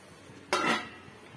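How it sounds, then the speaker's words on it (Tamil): A lid goes onto a pot of mutton biryani as it cooks, giving one sharp metallic clank that rings briefly and fades, close and alone. "இப்போ நம்ம மூடி போட்டு விட்டுக்கலாம்"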